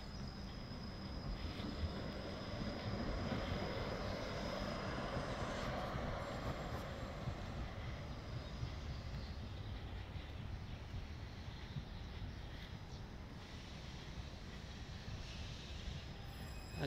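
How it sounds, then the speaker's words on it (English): A Moscow metro train passes near a park station outside, its steady rolling rumble and wheel squeal filling the whole span at constant loudness. "just the metro has come, it's passing by"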